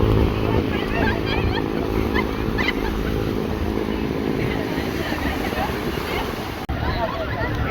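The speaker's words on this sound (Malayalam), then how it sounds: "നമ്മുടെ ബോട്ട് ഇവിടെ റെഡി ആയിട്ടുണ്ട് പോകാനുള്ള." A motorboat engine idles at a jetty in Goa, a low steady rumble running beneath continuous crowd chatter and nearby talking.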